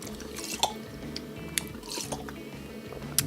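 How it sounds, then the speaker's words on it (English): A person sips water, with small wet slurping and dripping sounds and a few sharp clicks, close and fairly quiet, with no talking. "I should take a sip of water."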